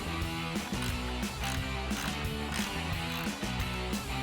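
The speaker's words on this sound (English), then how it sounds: "Now we switched out to a smaller ratchet just to give us more room." A small ratchet works a nut loose on a headlight stud of a 2019-2024 RAM 2500, giving rapid, even mechanical clicking up close that runs the whole time without pause.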